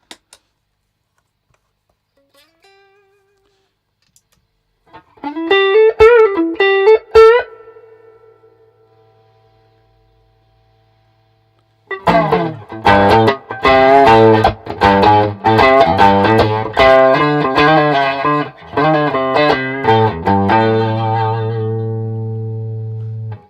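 Electric guitar through an Antares Overdrive pedal: a few picked notes ring out, then after a pause a driven, gritty riff of rhythmic chords plays steadily and loud.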